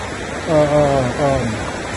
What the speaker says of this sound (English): Walking right along the side of the river.